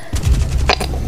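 Rapid MP7 submachine gun fire in Garry's Mod, a quick burst of several loud, close shots in fast succession lasting about a second.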